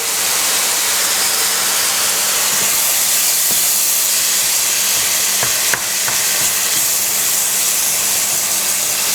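Lamb mince fries in a pan and is stirred, a loud constant sizzle and hiss with occasional scraping and clinking of the utensil, no voices.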